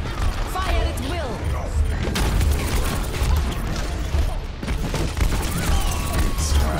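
Gunfire in the video game Overwatch, dense overlapping shots and impacts running steadily throughout, with voices talking over the chaotic battle noise.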